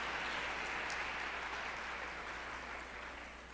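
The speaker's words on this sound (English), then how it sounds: "please give them a big round of applause" Audience applause for the backstage crew and ushers at an MLK tribute and celebration, a steady broad wash of clapping that fades slightly toward the end, with no voices over it.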